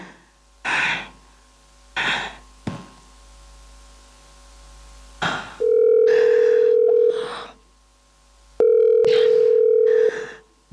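A telephone dial tone sounds twice during a stage play performance, each steady tone lasting about a second and a half, clear and loud between bursts of shouting and gasping from actors on stage.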